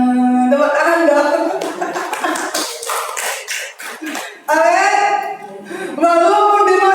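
A church congregation at Sunday worship claps over sung or chanted voices and organ-like tones, a short spell of mixed hand claps breaking through before the music swells back.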